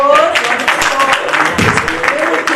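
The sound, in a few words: round of applause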